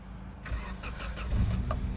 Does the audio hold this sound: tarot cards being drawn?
no